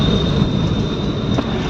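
Heavy train rumbling past on a line between Morbi and Rajkot, a dense, loud, continuous roar with a faint steady whine on top, no voices.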